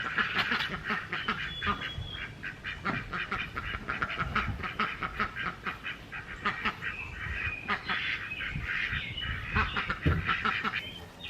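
Ducks in a coop quack loudly and continuously close by, with overlapping bursts of calls and some honking throughout.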